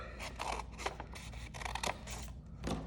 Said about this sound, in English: We're going to cut this line right here.